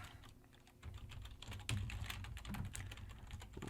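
Typing on a computer keyboard: a rapid, uneven run of close, quiet key clicks with no talk over it.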